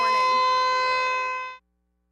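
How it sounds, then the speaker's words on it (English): A newly installed campus emergency siren on an arena roof sounds during a test, a loud sustained steady wail heard alone that holds for about a second and a half and then cuts off abruptly. "We are here at Lincoln Memorial University's main campus where we are testing our new emergency siren system."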